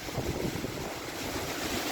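A splashing waterfall stream in the Comeragh Mountains, Ireland, gives a steady, dense roar of rushing water mixed with wind buffeting the microphone, loud and unbroken throughout.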